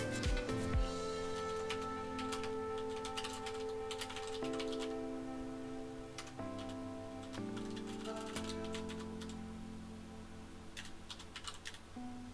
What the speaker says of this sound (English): He's trying to type something